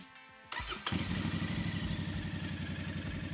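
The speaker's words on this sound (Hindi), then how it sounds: "अगर आप एक 4 लाख रुपए की मोटरसाइकिल ले रहे हो ट्विन सिलेंडर इंजन के साथ, तो बनता है कि उसका एग्जॉस्ट नोट अच्छा साउंड करे" Royal Enfield Bear 650 twin-cylinder motorcycle starting up close by: a brief crank, then the engine catches and settles into a loud, steady, rhythmic exhaust rumble at idle.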